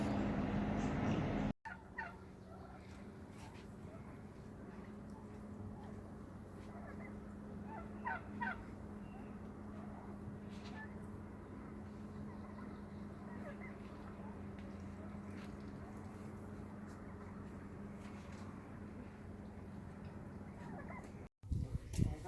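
Turkeys and chickens at a farm during turkey and chicken processing give scattered faint gobbles and clucks over a steady low background hum, with a louder rumble at the very start.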